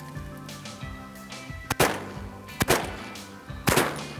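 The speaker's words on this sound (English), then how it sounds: "I'm gonna shoot across." Shotgun blasts during a bird hunt, three sharp booming shots spaced about a second apart, loud and close over steady background noise.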